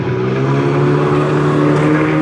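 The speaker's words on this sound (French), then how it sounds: "Voilà les voitures qui arrivent" Stunt show cars arrive with a close, steady engine drone and layered humming tones, loud and continuous throughout.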